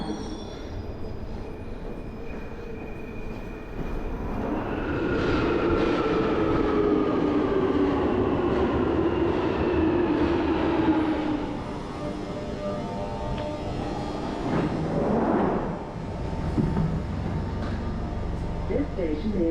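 A London Underground train rumbles along loudly, wheels grinding and squealing as it moves, with an announcement voice speaking over the noise.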